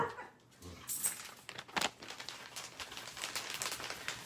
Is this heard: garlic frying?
no